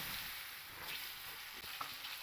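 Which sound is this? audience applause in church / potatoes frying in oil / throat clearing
potatoes frying in oil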